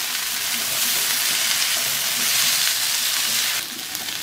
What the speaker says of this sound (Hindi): अब इस टाइम के ऊपर आके मैं इसमें बंद गोभी शामिल करूँगा तो अब इसको अच्छे से मिक्स कर लेते हैं